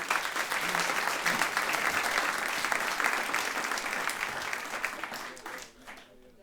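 An audience at a live speaking event claps loudly to welcome a speaker to the stage, the dense applause holding steady for several seconds before thinning and fading out at the end.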